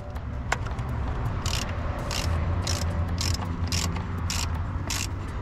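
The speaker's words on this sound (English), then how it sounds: "what we're using here is a 15/16 half inch drive to pull this out" Ratchet on a 15/16 socket, half inch drive, loosening the PCV valve from the plastic valve cover of a Nissan 350z, a rapid clicking pawl repeating in short bursts over a steady background hum.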